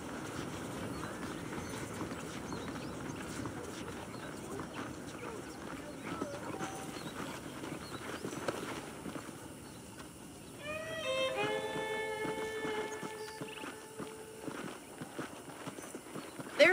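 Hooves clip-clop at a walk around a western town in Red Dead Redemption, with a horse nickering partway through and quiet ambient game sound underneath.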